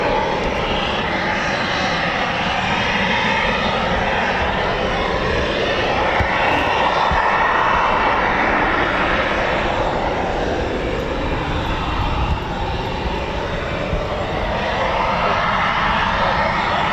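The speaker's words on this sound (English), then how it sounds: "So start up EJ200, here we go." A Eurofighter Typhoon FGR4's EJ200 jet engine starts up at RAF Coningsby, a loud, steady, broad roar that holds for the whole stretch with slow swelling tones.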